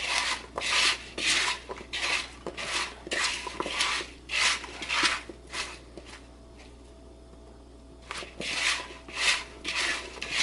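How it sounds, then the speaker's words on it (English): Seasoned ranch garlic potatoes tossed in a bowl, giving repeated rubbing, scraping strokes in bursts with a short pause partway through, close and moderately loud with no talking. "Let's give this a mix."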